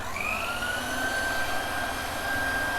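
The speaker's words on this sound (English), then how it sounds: "now we are going to mix it with a mixer" An electric mixer whips a cream filling for quiche Lorraine with a steady, continuous whirring drone and a faint rising whine, close and unbroken throughout.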